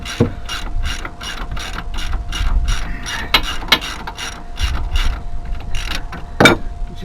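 A hand ratchet undoes two 15mm bolts on the rear brake caliper of a 2013 Ford Transit Mk7 van, giving rapid repeated clicking bursts, close and loud, with a few sharper metallic knocks between strokes.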